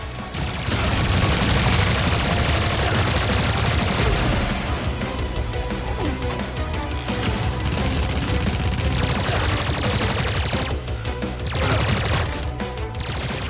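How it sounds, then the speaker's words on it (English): Rapid, dense gunfire from T-808 enemy robots in the side-scrolling game Terminator 2D: No Fate, loud and continuous throughout, layered with explosions and an intense game soundtrack. "T-808s here, they shoot in predictable patterns like crazy"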